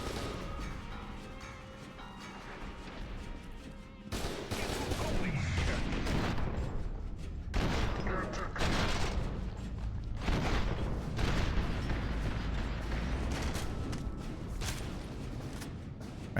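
Shotgun blasts and loud combat in the shooter game FEAR 2: Project Origin, dense booming gunfire and crashes layered over continuous game noise, with a sharp burst around four seconds.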